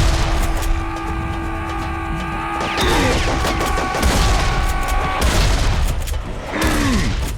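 Shotgun blasts from the video game Serious Sam 3, several heavy booming shots with ringing tails spaced a second or two apart over a dense in-game background, loud and close.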